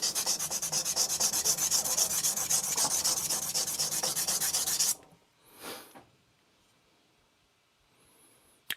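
An Aogami 2 carbon steel bunka knife grinds on a Shapton Glass 220 whetstone in fast, rhythmic, loud back-and-forth rasping strokes, then stops, leaving a soft scrape and quiet handling noises.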